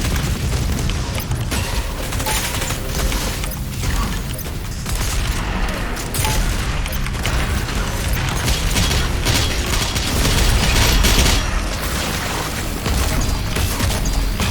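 Mini rocket launcher blasts in the video game DOOM Eternal, a dense, loud barrage of booms and bursts piling up continuously for several seconds with no break and no voices.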